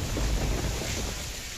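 Heavy rain in Malpur, Aravalli, during a storm, pouring as a dense, steady wash with low rumbling underneath, brief and unbroken, no voices.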